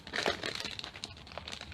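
Packaging of a 3D embossing folder being ripped open by hand, busy crinkling and tearing of plastic and paper, close and fairly quiet, with no talking.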